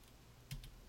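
A single soft keyboard key click, brief and close, over a faint steady room hum.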